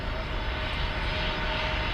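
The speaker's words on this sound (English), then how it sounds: "Looks like we have another plane taxiing to the runway for takeoff." A jet airliner taxis toward the runway for takeoff at Miami International Airport, its engines producing a loud, steady roar that continues without a break.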